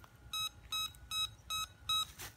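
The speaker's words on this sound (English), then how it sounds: "Those five beeps mean that the battery is full" Five short, bright electronic beeps from a Nokta AU Gold Finder metal detector powering on with a full battery, in an even rhythm, each about a fifth of a second long, clear and close with no other sound.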